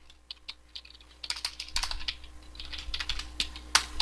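Typing on a computer keyboard during a Python data-analysis coding exercise, a quick run of crisp key clicks that grows denser in the second half, with no talk.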